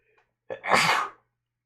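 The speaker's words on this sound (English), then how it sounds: "I'm gonna sneeze again." A single loud sneeze with a quick sharp intake followed by a forceful burst, close up, in an otherwise quiet room.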